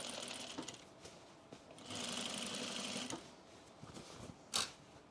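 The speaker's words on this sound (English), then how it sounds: "Are you sewing? Yeah, you're sewing." A home sewing machine stitches Sequoia cargo pants, running in short bursts with a longer steady buzzing run in the middle, close and fairly quiet, with small clicks between the bursts.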